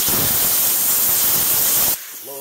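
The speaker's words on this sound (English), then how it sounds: "Alright, so grab a blow gun," Compressed-air blow gun blasting out threaded holes during a Dodge Ram 2500 supercharger upgrade, a loud steady hissing rush for about two seconds, then cutting off to leave a faint tonal hum.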